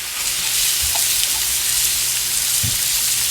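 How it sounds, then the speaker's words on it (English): Diced onion sizzles in about two tablespoons of sesame oil in a pan, a loud, continuous hiss up close with a couple of soft stirring bumps. "I'm going to put a little bit of sesame oil in the pan. Probably about 2 tablespoons. Okay, I'm going to put some onion in there. Diced onion."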